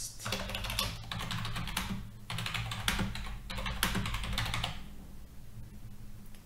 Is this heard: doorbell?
no